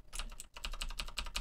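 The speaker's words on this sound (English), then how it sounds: "One thing I do not like about this keyboard is the space bar. I'm not sure if you guys can hear, but it has an aluminum sound." An Onn gaming mechanical keyboard's space bar is pressed repeatedly, giving about seven quick, evenly spaced clacks with a hollow, metallic, aluminum-like ring. The sound is close and quiet, with no voices.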